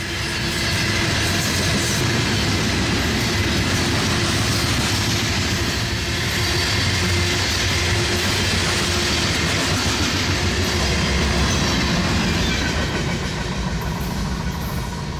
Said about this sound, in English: This is one of the trains that serves Tampa's giant Big Bend power station on Tampa Bay.